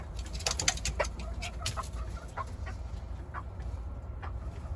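Hens on a backyard farm clucking, with a rooster-like call among them, in a series of short sharp calls over a steady low background hum, nearby and moderately loud.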